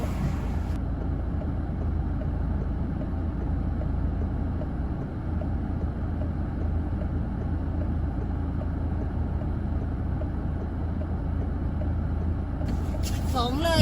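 Continuous road traffic noise beside a roadside in Thailand on a busy Friday, a steady broadband rumble of cars going by close to the microphone, with a brief rattle near the end.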